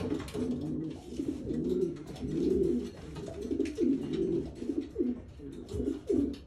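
Breeder pigeons, a cock and a hen, coo repeatedly in low, throaty rolling phrases, close and steady throughout with no talk over them.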